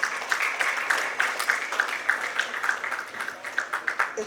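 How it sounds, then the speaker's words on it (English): A crowd claps steadily and fairly evenly, moderate in volume and a little distant, with no voices over it. "Let's welcome Mr. Nikhel Kochhar with a big round of applause."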